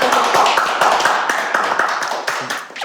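Applause from a studio audience on a Korean political talk show: a dense, fairly loud patter of many hands clapping that runs for about three seconds and thins slightly toward the end.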